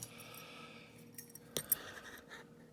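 A small bunch of metal keys jangles and clinks faintly, with a couple of sharper taps near the middle, in a quiet room.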